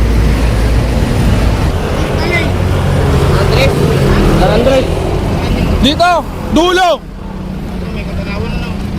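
A motorboat engine runs steadily through an island boat ride, a continuous loud drone with wind and water noise beneath several people talking and calling out over it.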